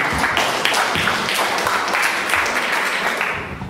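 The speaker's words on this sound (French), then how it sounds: "on peut encore applaudir" Sustained applause from a seated audience at a French ethics expert session, a dense steady wash of many hands that holds throughout and eases slightly near the end, with no talk over it.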